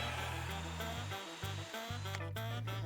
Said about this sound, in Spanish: hacer una perforación con broca para madera de 7 milímetros